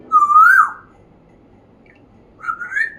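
A person whistles two imitations of an Asian koel call, a bright rising note followed after a pause by a shorter second call, loud and close with no talking.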